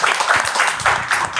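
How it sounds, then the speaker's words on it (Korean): Audience applause welcoming the head of Korea Startup Forum back to the stage at a startup trend briefing, a dense, steady wash of clapping throughout the short stretch. "코리아 스타트업 포럼의 최성진 대표님을 다시 뜨거운 박수로 모시고"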